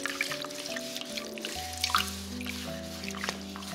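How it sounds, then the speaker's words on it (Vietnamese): Singed pig trotter skin is rinsed under running water, with soft trickling and dripping plus faint wet squishes of handling, quiet and close, with no one talking. "Sau khi thui hết phần da thì mình đem rửa nè"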